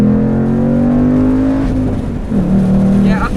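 A Ford Mustang Bullitt V8 accelerates at full throttle, its engine roaring close and loud as the revs climb, dip briefly at a gear change, then rise again.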